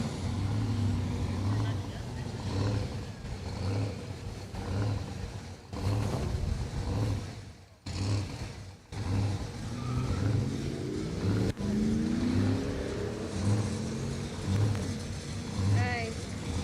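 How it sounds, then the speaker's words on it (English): A 1967 Chevrolet Camaro rolls up at a US 13 anniversary car show, its engine rumbling and swelling under ongoing talk and crowd noise. "Scott Conaway bringing us this beautiful 67 Camaro out of Parsonsburg, Maryland. Coming up here next."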